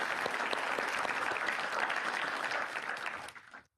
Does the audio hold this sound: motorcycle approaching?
no